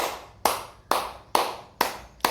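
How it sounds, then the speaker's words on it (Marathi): Hands clapping as a seated home exercise for elderly people, five sharp claps at a slow, steady pace of roughly one every half second, close and clear with no talking. "आणि अशा टाळ्या वाजवायच्या."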